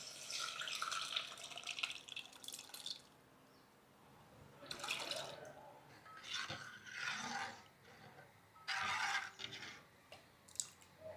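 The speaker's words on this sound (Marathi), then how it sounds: "आता तयार झालेल्या या फोडणीमध्ये आपण अर्धवट घोटून ठेवलेली ही डाळ ओतून घेऊयात" Thick, partly mashed dal pours and splashes into a pan of tempering in several short bursts with pauses between, fairly close, with no voices present.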